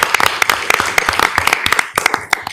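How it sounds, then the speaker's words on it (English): A small audience at a town meeting gives a round of applause, the individual claps close and distinct in an uneven, fairly loud patter. "Let's give him a round of applause."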